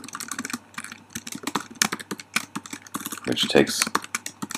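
Rapid, uneven clatter of a computer keyboard as code is typed, with dense close key clicks in short bursts and a voice speaking briefly over the typing.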